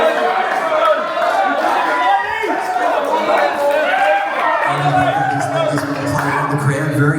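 Crowd at a boxing press conference face-off between two boxers on the Gold Coast, a dense, steady wash of chatter and voices that stays loud throughout, with people talking near the front.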